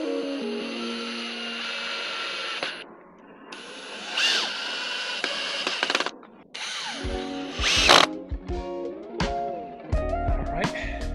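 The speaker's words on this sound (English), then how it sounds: "Screws into the latch." Power drill drives screws into a wooden deck gate latch, with whining bursts of the motor, pauses between screws, and ratcheting clicks and clatter near the end, loud and close.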